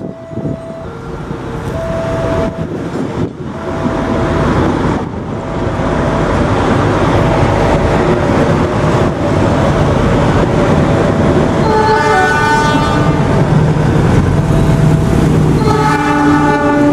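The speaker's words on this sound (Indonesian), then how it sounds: "dari timur kereta api Pramex." A train horn sounds several times as a Pramex commuter train approaches, then a long, loud rush and rumble of carriages passes close by.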